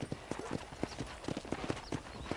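Horse hooves clip-clop in a quick, steady rhythm on hard ground in the Western video game Red Dead Redemption, fairly quiet, with faint ambient background.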